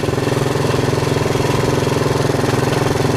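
A motorcycle engine idles with a steady, fast pulsing thump, its revs hanging high despite cleaned carburettors; the sound is close, loud and constant, with no voices over it.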